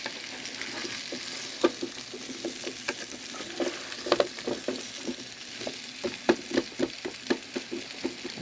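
Bigger onion pieces are broken up with a utensil inside a pressure cooker, a string of irregular quiet scrapes and sharp taps over a faint background hiss.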